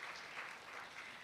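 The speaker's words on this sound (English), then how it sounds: "So I'd love to just give a round of applause to that." A conference audience at a cultivated-meat and bioreactor event gives a short round of applause, a faint, even patter of many hands clapping, heard alone.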